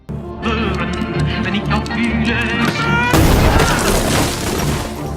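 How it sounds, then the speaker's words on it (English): Gunfire and a heavy grenade blast erupt during a shootout on a church rooftop, loud and continuous, with a dense burst of crashing noise hitting midway and sustaining to the end. "Then a shootout ensued on the roof of the church."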